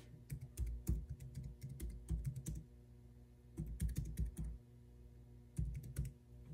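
Key presses on a Jelly Comb foldable Bluetooth keyboard paired with an iPad, typed in two quick bursts of clicky taps separated by a short pause, close and fairly quiet with no talking.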